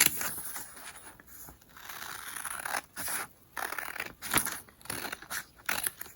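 Scissors cutting through face mask fabric and its template, a run of close, crisp snips and scrapes in irregular bursts with short pauses between them.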